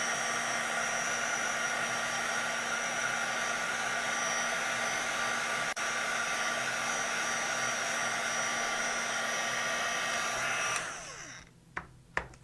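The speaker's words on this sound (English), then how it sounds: "because you're doing it with the heat gun and not letting it dry by air" Heat gun drying embossing paste: a loud, steady whirring blast of hot air running close for about ten seconds, then switched off and winding down, followed by a few small knocks and clicks.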